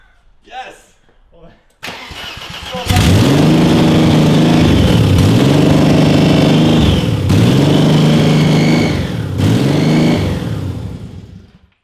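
A BMW E30 Touring with a swapped-in S50 engine revs hard and steadily after starting, loud and close, its pitch rising and falling through several throttle blips while voices speak faintly in the background.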